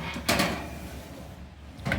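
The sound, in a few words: oven door closing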